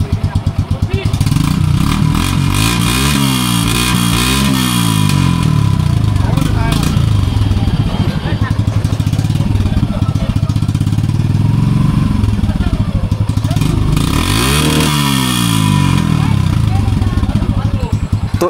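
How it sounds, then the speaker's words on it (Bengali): A Suzuki Gixxer single-cylinder motorcycle with a modified, opened-up exhaust thumps loudly and steadily up close, with a couple of rev swells rising and falling over the deep idle beat, and someone talks over it throughout. "বাইক আস্তে আস্তে চালালে ডুক ডুক ডুক ডুক ডুক সাউন্ড করো"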